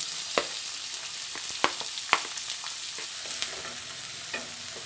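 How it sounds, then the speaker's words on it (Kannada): Onions frying in oil in a pan on the stove, a steady close sizzle with a few sharp clinks of a spoon stirring against the metal throughout. "ನೋಡಿ, ಈರುಳ್ಳಿ ಚೆನ್ನಾಗಿ ಫ್ರೈ ಆಗಿದೆ"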